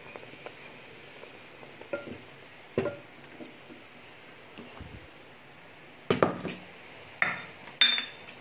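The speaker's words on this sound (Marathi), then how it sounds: "लाल मिरची पावडर, हळद हे साहित्य घालून घेणार आहोत आणि उलटण्याच्या टोकाने हे हलवून घेणार आहोत" A spatula stirs red chili powder and turmeric in a pan, with scattered scraping clicks and a few louder clattering knocks against the metal near the end.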